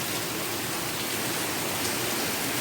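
Heavy rain and wind from Typhoon Tisoy in Cebu, Philippines, a dense, steady hiss of downpour that fills the whole moment without pause or talk.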